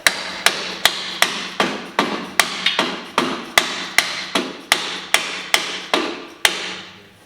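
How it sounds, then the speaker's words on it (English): A hammer taps a part into place on a Jeep TJ Rubicon, about seventeen evenly spaced metallic strikes, close and fairly sharp, with a short ringing decay after each blow. "Lightly tap this in the place while Dustin drops wrenches."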